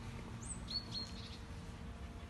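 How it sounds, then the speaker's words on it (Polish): Several quick, high bird chirps sound faintly at a distance over a low steady background hum, then fade into quiet. "Ptaszki."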